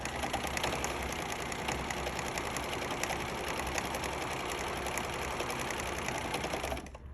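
A sewing machine running a straight-stitch hem, a steady close whirring hum with a rapid needle rhythm that holds evenly for several seconds before slowing at the end, with no talk.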